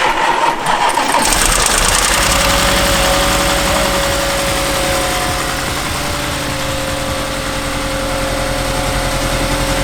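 A rebuilt Audi S7 engine cranks and catches, then settles into a loud, steady idle with a constant hum and vibration, close by and alone for nearly ten seconds.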